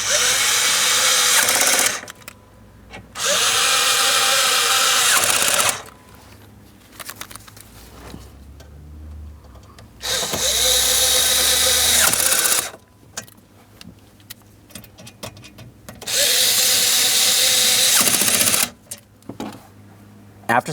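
Power drill snugging bolts into a metal panel behind the dash of a 2008-2016 Chrysler during HVAC blend door actuator replacement, in four loud whirring bursts of a few seconds each, with quiet clicks and handling noise between them.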